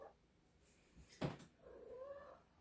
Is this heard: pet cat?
yes